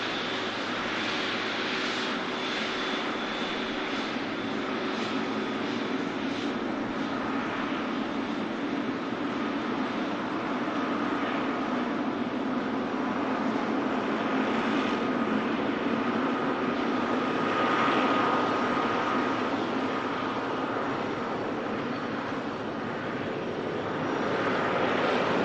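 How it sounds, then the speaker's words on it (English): A Qatar Airways Boeing 777 taxiing at Manchester Airport, its jet engines giving a steady broad roar that swells slightly as it passes, continuous and fairly close, with no talk over it. "Stunning Qatar triple, taxiing past us."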